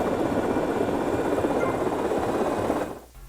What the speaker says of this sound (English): The helicopter mission to deliver RC bombs.